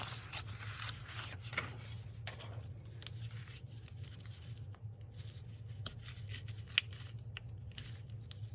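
Scissors cutting through junk mail paper for an envelope folder craft, a faint run of soft snips and rustles over a steady low room hum, with no voices.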